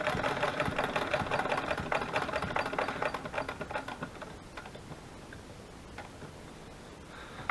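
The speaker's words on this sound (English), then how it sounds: "you'd be surprised how fast I can get this sewing machine to work. I can get it going, spinning pretty darn good." A sewing machine runs fast with a steady rapid ticking whir for about four seconds, then slows and fades toward quiet, heard close and alone.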